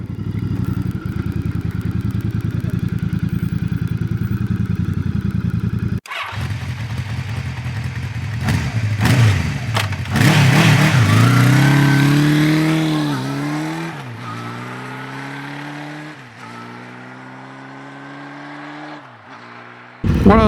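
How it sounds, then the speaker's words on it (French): A group of about thirteen Royal Enfield motorcycles idles near Limoges, then revs and pulls away one after another, loud engines accelerating and gradually fading into the distance. "Nous sommes 13 motos et nous partons pour une boucle d'environ 200 km"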